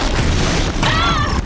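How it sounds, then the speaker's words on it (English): In Horizon Zero Dawn: The Frozen Wilds, a blast bomb goes off as a loud, close boom with a heavy low rumble, then a ringing, whistling tail. "Now, one blast bomb."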